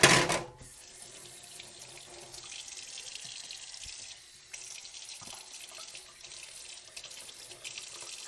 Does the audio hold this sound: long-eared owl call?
no